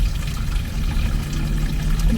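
Water pouring steadily into a container for heating during a fall overlanding trip in a parking lot, a continuous close splashing rush lasting a couple of seconds with no talk.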